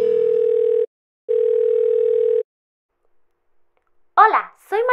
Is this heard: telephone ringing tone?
yes